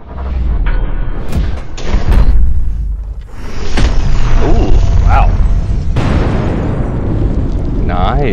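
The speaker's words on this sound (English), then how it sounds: "That sounded like a gunshot to me." A Taurus .38 Special revolver fires a live standard round, giving a sharp, loud bang with a short echoing tail, while people talk around it.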